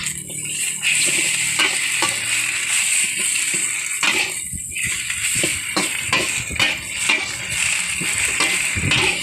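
Wide rice noodles with seafood and leafy greens are stir-fried in a pan, producing a steady loud sizzle with rapid clattering scrapes and tosses throughout.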